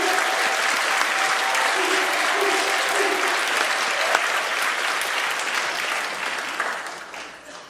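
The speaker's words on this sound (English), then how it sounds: "so let's please give them a round of applause." An audience at a nursing pinning ceremony applauds the graduating class, a loud, full round of clapping that stays strong for several seconds and then gradually fades, with faint crowd voices beneath.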